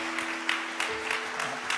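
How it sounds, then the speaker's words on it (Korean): Church congregation applauding at a Friday late-night prayer service, a steady wash of clapping with a faint sustained tone running underneath throughout. "박수."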